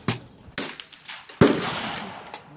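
Gunshots at an outdoor gun range, several sharp bangs at irregular intervals, one loud nearby shot followed by a lingering echo, with quieter pops between.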